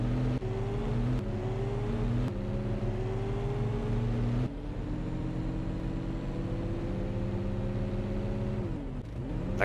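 Tractor engine in the farming game Cattle and Crops, a steady low diesel drone with shifting revs and brief gear-change dips, continuous and close throughout.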